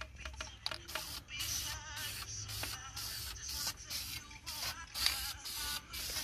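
An aerosol spray can lays a heavier second coat of paint onto brake calipers in short repeated hissing bursts separated by brief pauses, fairly close, with faint handling noises between passes.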